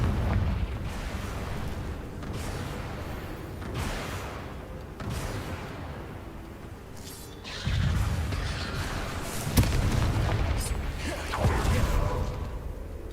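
Confringo fire spell explosions in Hogwarts Legacy on PS5, a series of heavy booming blasts with rumbling low end and crackling debris, several bursts spread across the stretch at moderate loudness.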